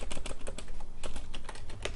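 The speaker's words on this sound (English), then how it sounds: "I apologize for the loud keyboard and mouse" Rapid clacking keystrokes from a loud computer keyboard during a Minecraft modded let's play session, close and crisp with irregular bursts of taps and no talking.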